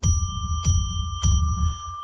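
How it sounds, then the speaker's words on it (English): A small bell rings three times in quick succession on a live psychic radio show, each clear metallic ding decaying into a sustained tone. "we're going to ring a bell 3 times to declare sacred space."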